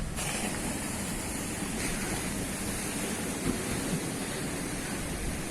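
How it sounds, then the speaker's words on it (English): Waves on Varkala Beach in Kerala, heard from the clifftop as a continuous, even surf wash with some wind over the microphone. "Look at the beach from here."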